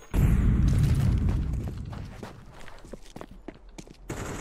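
An incendiary grenade bursts with a loud, close whoosh in Counter-Strike 2, followed by a fading crackle and scattered footstep-like taps.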